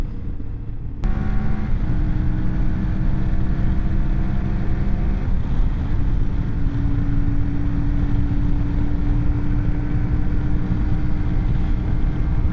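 A CFMOTO Ibex 450 adventure motorcycle holds a high, steady engine whine at about 75 to 80 mph and roughly 7,000 RPM, with constant wind rush throughout.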